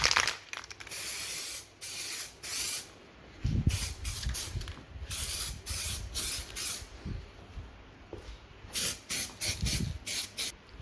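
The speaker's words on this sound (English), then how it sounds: "I'm going to go and put some primer on this first, just to get it all one uniform colour." Bursts of 2-pack high fill primer from a rattle can, sprayed in light coats onto a VX Calais LS1 skid car's panels: a dozen or so short hissing sprays with brief pauses between, close and fairly loud.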